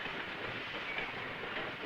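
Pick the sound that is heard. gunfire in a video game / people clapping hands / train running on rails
train running on rails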